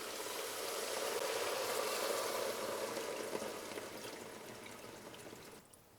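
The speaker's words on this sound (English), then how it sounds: "now you want to cover them with cool water" Cool water pours steadily into a stock pot for several seconds, a full rushing splash that gradually softens before stopping near the end.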